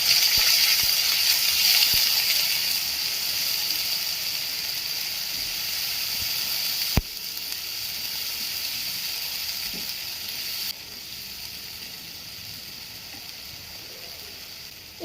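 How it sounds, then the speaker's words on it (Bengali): Prawn heads fry in a pan with onion-garlic paste and turmeric, a steady bright sizzle and hiss that slowly eases, broken by a few sharp clinks of stirring. "তারপর দিলাম হলুদ, এটাকে দিয়ে একটু নেড়ে চেড়ে একটু ভেজে নেব"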